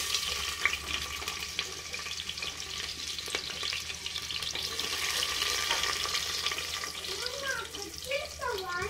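Onions frying in hot oil in a pan, a steady soft sizzle with stirring and faint clinks, lasting throughout, while someone talks briefly near the end.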